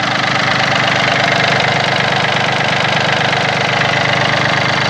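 A Yanmar AF-22 Japanese mini tractor with a three-cylinder diesel engine idling, a loud, close, steady rumble with a fast even knocking pulse that holds unchanged throughout, no voices.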